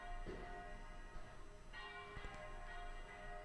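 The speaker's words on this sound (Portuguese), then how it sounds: "Dá para escutar os sinos de São João del Rei?" Church bells of São João del Rei, Brazil, ring faintly in the distance during a religious procession, their tones lingering over a low background hum, with a few soft clanks in between.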